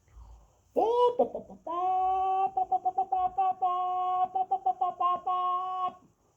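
A steady, tonal voiced call with a stuttering, repeated rhythm sounds like a person imitating a hen's cackle, held for several seconds.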